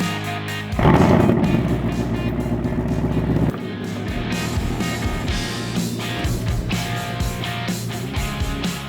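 A Ford Mustang's engine rumbles loud and steady as the car backs into a home garage, the heavy low roar easing after a few seconds into a quieter idle with clanks and knocks around it.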